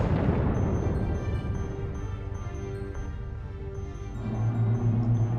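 Missile impacts striking an enemy ship in Sins of a Solar Empire, a sustained rumbling barrage of distant booms under a low humming space ambience that swells again toward the end.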